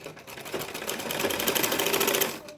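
A sewing machine stitches fabric for an old-saree Anarkali gown in a steady, rapid mechanical whir with a fast needle pulse, close and fairly loud, running alone without speech.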